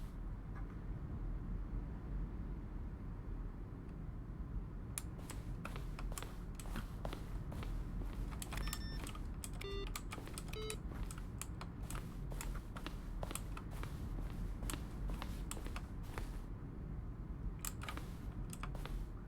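Button presses from the video game The Stanley Parable, each a keyboard keystroke, sound as sparse then rapid clicks and taps over a steady low background hum, close and crisp, with irregular spacing between presses.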